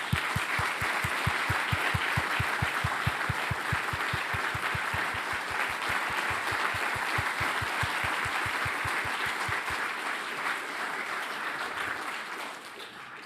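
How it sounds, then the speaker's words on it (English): An audience at an electric vehicle summit applauds steadily, with a rhythmic low thumping pulse running beneath the clapping before it fades out near the end. "can we please give a round of applause for Violetta?"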